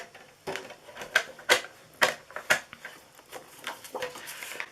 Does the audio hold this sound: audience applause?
no